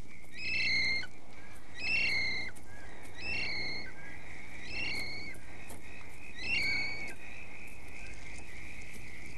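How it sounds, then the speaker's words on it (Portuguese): Kiwi calls play from sound equipment in New Zealand, a series of shrill whistled cries repeating at regular intervals of roughly a second, clear and moderately loud over a quiet background. "instala um equipamento de som que emite o ruído da ave"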